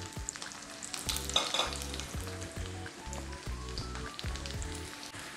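Potatoes fry and brown in a hot pan with a continuous crackling sizzle, moderately loud and close, plus a few brief spatters, and no voices present.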